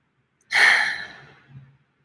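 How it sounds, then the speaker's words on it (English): A single long, deep breath, nasal and breathy, swells quickly and then tapers over about a second, with a softer tail as it ends. It is close and quiet, with no talking, during a guided meditation. "We're taking long, deep, slow breaths in through your nose, feeling the inflation of your torso"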